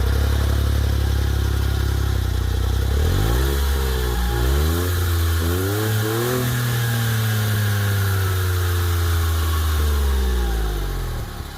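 A Smart Brabus's small turbo petrol engine idles, then revs repeatedly through rising and falling pitches before settling into steady driving, loud and close.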